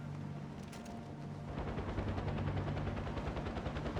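Helicopter in the Far Cry 4 video game with a steady rotor drone, then rapid automatic gunfire bursting in and continuing in a fast rattling stream over the engine hum.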